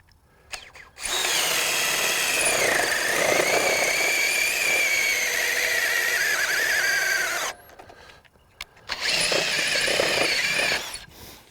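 A RIDGID 18-volt sub-compact brushless impact driver runs loud and close in one long whirring burst of about six seconds, stops briefly, then whirs again for roughly two more seconds, with no voices.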